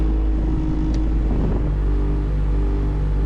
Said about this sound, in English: The AC blows nice and cold, but that noise is the issue.